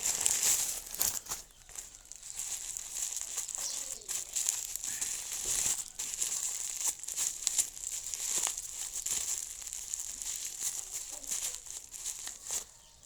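Packaging on a newly delivered solar-setup tool is torn and crinkled open during an unboxing, giving a long run of close rustles, rips and crackles with short pauses.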